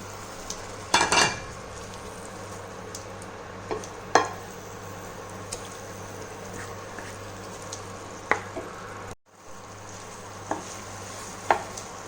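Half-cooked prawns sizzle in ghee with roast masala paste for a Mangalore-style prawn ghee roast, a steady quiet fry broken by a few sharp spoon scrapes and stirs, with a brief dropout near the end.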